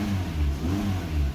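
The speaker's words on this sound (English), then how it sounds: "I'm waiting for the car to warm up" A Mazda 3 engine warming up revs in quick repeated rises and falls, a steady mid-pitched drone pulsing several times, close by and alone without talk.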